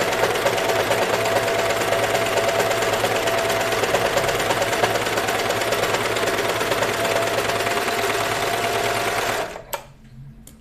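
A sewing machine stitches a Moneta dress in a fast, steady whirring run that lasts several seconds before stopping abruptly, followed by a few faint handling clicks.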